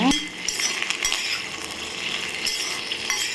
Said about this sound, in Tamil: நல்லா சுண்டைக்காய் வைப்போம் நல்லெண்ணெய் நல்லா வதக்கிக்கோங்க